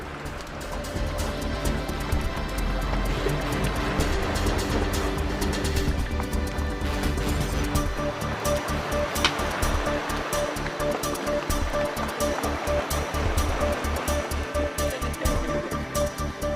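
Antarctic icebergs and sea ice give a steady, dense wash of watery crackling and fizzing as bubbles pop, with low grinding rumbles of ice rubbing against itself, continuous and fairly loud throughout.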